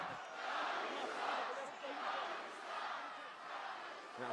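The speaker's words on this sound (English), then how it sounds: "Okay, crowd's gotten back on track." A WWE Raw wrestling arena crowd roars in a steady, dense wash of cheering and chanting, loud and sustained throughout with no break.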